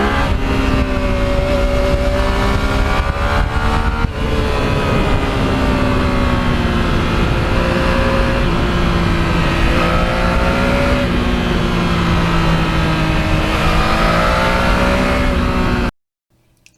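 Yamaha MT-09 motorcycle under way on open road, engine note rising and falling steadily as it accelerates through gears, loud and continuous with wind noise throughout, cutting off abruptly at the end.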